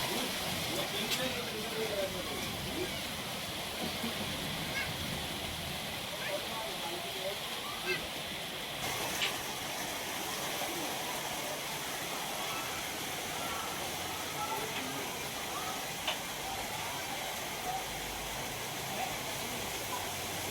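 Heavy monsoon rainwater rushes through the flooded Hatadiya and Mandvi market streets, a continuous broadband wash of flowing water that stays steady and moderately loud from start to finish.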